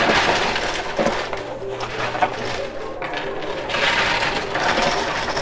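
A sustained clattering cascade of plastic chips tumbling and knocking together inside a coin pusher machine, dense and rattling, swelling again toward the end.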